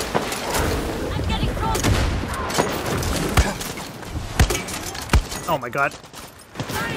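Scattered gunfire with sharp sniper cracks and distant bursts in Far Cry 6 combat, loud irregular shots spread across the scene while someone talks excitedly over them.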